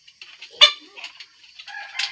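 A chicken clucks nearby in a yard, giving soft, scattered clucks and one sharper squawk. The sounds come in quick, irregular bursts with no talk over them.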